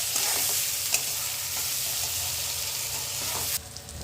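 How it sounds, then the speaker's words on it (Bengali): Eggplant frying in a pan, seasoned with salt and turmeric, gives a loud, steady sizzle close by, with occasional light stirring scrapes and clicks throughout. "বেগুনটা একটু সময় ভাজা হোক।"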